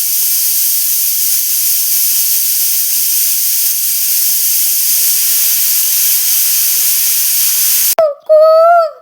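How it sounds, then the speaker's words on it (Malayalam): A pressure cooker cooking horse gram blows a loud, continuous whistling hiss of steam for about eight seconds, then stops abruptly as a voice begins. "കുക്കർ വിസിലടിക്കുന്ന കേട്ടോ"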